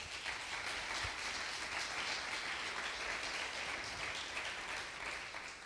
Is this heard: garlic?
no